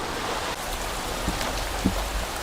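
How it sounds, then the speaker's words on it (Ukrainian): Rain falls outdoors near a beehive, a steady even hiss of drops with a few louder nearby taps and no voices. "Не встиг відкрити вулика, як пішов дощ все так швидко міняється."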